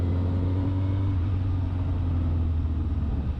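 Honda Hornet 1000SP motorcycle engine pulling hard in second gear, a steady loud mid-pitched rumble and drone holding throughout without a break, close and dominant.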